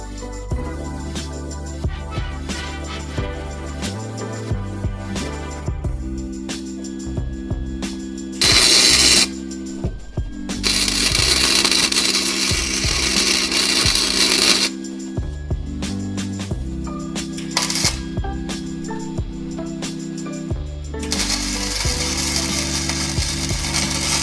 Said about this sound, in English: we're gonna grind off some of this paint so we can get some good tacks on there